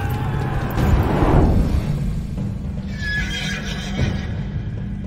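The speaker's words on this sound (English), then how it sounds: "A war horse was no ordinary horse." A war horse neighs in the medieval strategy game Age of Empires 4, one loud drawn-out whinny with hoof clip-clops beneath, followed by a lingering battlefield rumble.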